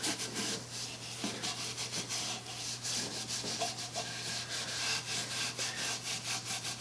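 Wax is rubbed by hand over an old shellac finish on an antique wooden buffet, giving a soft, close, rhythmic scrubbing with the grain and in circles, repeating in steady strokes.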